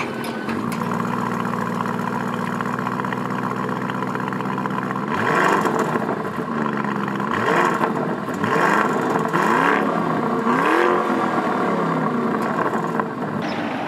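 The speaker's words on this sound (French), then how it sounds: "Maintenant je vais vous faire un petit peu écouter le bruit du véhicule" A Lamborghini Urus engine idles steadily, then is revved several times in quick, throaty bursts, close and fairly loud, with no talking.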